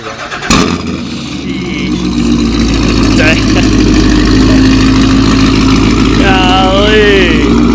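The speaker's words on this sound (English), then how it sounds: "Here's the first ever startup with the new exhaust system, long tubes, and AW Black Diamond." A Corvette Z06 with long tube headers and a new exhaust fires up for the first time: a sharp crank and catch, then a loud, rumbling idle that swells and holds steady, with voices talking over it.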